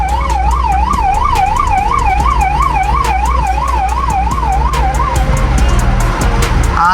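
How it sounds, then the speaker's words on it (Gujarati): Ambulance siren wailing in a fast, steady up-and-down pattern right alongside a car on a rough highway in heavy rain. It is loud and close over constant rain and road noise, fading slightly near the end. "એક્ઝેક્ટ બાજુમાં છે ને એમ્બ્યુલન્સ છે."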